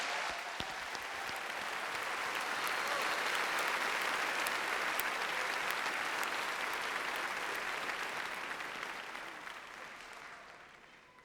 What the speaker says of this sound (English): Please give a round of applause for these outstanding accomplishments.